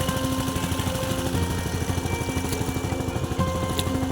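Two water pumping machines running at a flooded cucumber and bitter gourd field, a steady loud mechanical engine drone with rapid throbbing pulses; constant throughout, no talking.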